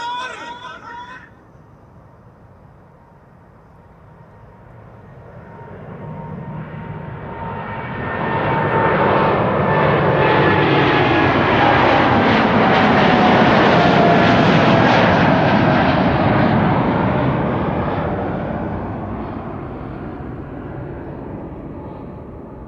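A KLM airliner bound for Bogota takes off at Amsterdam Schiphol Airport, its jet roar building from near quiet to a loud, close sweep with shifting whine tones before slowly fading; a brief voice starts it off.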